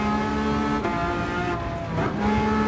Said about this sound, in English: Just listen to that V12. It sounds so sick,